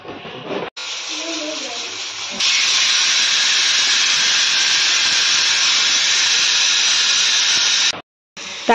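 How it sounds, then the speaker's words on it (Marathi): A pressure cooker with vegetables for pav bhaji releases steam as a loud, sustained high whistling hiss that starts softer, jumps in strength after a couple of seconds, then cuts off abruptly near the end. "तर आता कुकरच्या 2 शिट्ट्या झालेल्या आहे"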